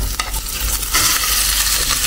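Ingredients being sautéed in a pan with a spatula: a loud continuous sizzle and crackle of frying, with scraping stirring strokes close by and no talk.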